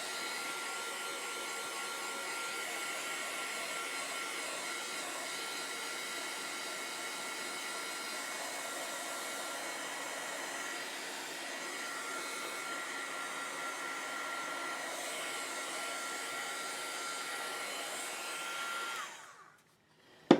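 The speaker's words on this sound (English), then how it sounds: "I can speed that along with my heat gun" A heat gun blows steadily while drying paint on a craft wreath, a constant whooshing hiss held at even level for about nineteen seconds before cutting off abruptly.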